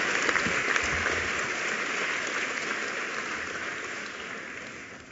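A large commencement audience at a law school graduation ceremony gives a sustained warm round of applause, dense clapping that stays steady and slowly fades toward the end.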